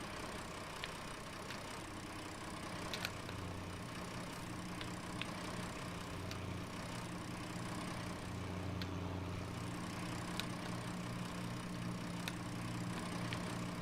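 A tractor engine idles in Farming Simulator 19 with a low, steady hum and faint periodic ticks, continuous and unchanging at a moderate distance.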